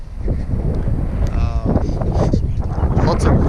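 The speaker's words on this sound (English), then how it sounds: "it's just too windy for a maiden" Steady strong wind buffets the microphone with a constant low roar throughout, with brief faint sounds poking through.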